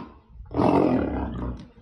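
A lion roars loudly and close, a single sustained roar swelling after a brief quiet start and trailing off over under two seconds, with no talk over it.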